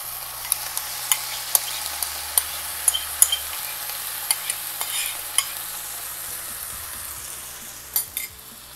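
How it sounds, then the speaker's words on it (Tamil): Chicken stirred into a cooked masala in a pan for Guntur-style chicken, a constant close sizzle punctuated by regular sharp clicks of a spoon striking the pan, ending in a couple of louder scrapes. "இப்போ இந்த சிக்கனை வந்து இந்த மசாலாவோட நல்லா மிக்ஸ் பண்ணி விட்டுடலாம்."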